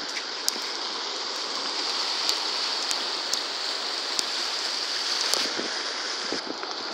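The flooded Guaribas river in Picos rushes past in a steady, dense roar of churning water, close and continuous with scattered splashes and faint clicks, no voices over it.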